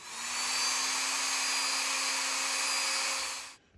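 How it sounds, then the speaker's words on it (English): A small drill bores a guide hole in the resin neck of a Baldwin The Pious model: a steady, high-pitched whine that runs for about three and a half seconds and then stops abruptly. "the first thing I'm going to do is drill a small guide hole"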